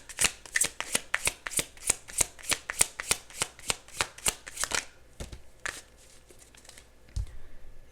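A deck of tarot cards is shuffled in a fast, steady run of crisp riffling flicks, then slows to a few scattered shuffles and taps.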